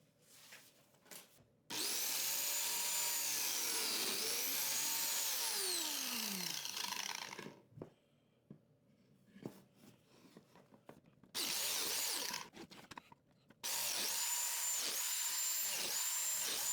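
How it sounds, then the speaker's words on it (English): A biscuit joiner cuts slots into hardwood pieces from pallets for a stool seat, with loud whining motor bursts that rise and fall, stopping and restarting several times, separated by quieter handling noises. "I'm going to use the biscuit joiner to join the 4 pieces for the stool seat."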